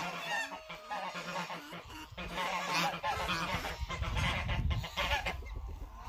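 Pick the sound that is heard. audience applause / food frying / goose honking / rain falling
goose honking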